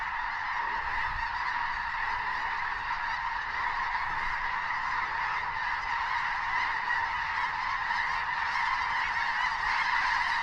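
A large flock of snow geese honks continuously in flight over South Dakota, a dense, steady chorus of many overlapping calls that fills the air with no pauses.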